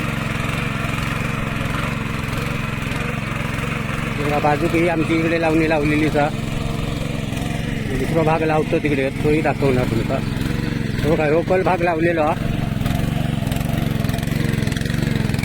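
A tractor's mid-pitched engine drones continuously while ploughing a rice paddy field in Kumbhavade, Rajapur, and someone talks over the steady hum throughout.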